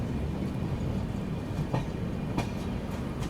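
Kolkata–Sairang Express rolling in at a crossing in the Barak Valley while another train waits stopped: a continuous low rumble with faint wheel clicks and a couple of soft metallic knocks, no voices.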